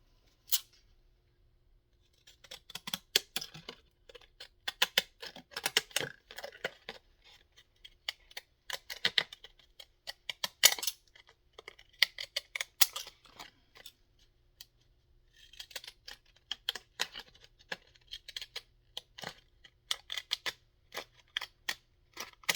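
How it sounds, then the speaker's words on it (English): Jagged-edge craft scissors snip through paper in a long run of crisp, close cuts, coming in quick bursts separated by brief pauses, with no talking. "Let's see, maybe I'll take my jaggedy scissors."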